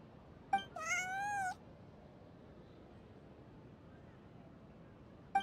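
Bonnie, a cat in the video game Genshin Impact, lets out one clear rising-and-falling meow lasting under a second, followed by soft ambient background hiss.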